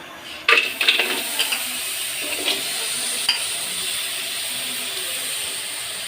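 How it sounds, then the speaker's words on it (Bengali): Jaggery dropped into a kadai for coconut naru, beginning with a few sharp clatters and knocks followed by a steady, moderate sizzle and faint stirring scrapes. "প্রথমে আমরা কড়াইতে দিয়ে দেব গুড়।"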